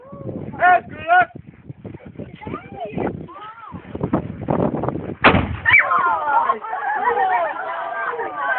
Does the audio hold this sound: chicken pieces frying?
no